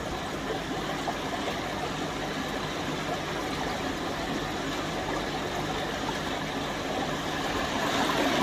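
Water churns and bubbles vigorously in a pond filter, a steady rushing boil with an even, continuous texture that swells slightly near the end.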